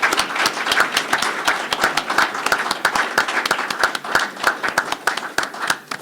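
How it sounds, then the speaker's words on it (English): An audience claps loudly and steadily to honor admitted students, many sharp, overlapping hand claps forming a close, continuous ovation throughout. "So round of applause for all of our students"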